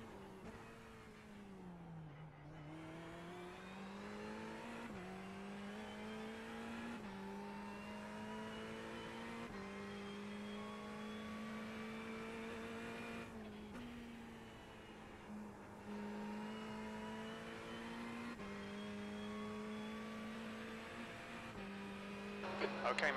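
A Ferrari 488 EVO race car engine in a racing game drones steadily at high revs, dipping and climbing through gear changes and corners over a long continuous run, with no talk.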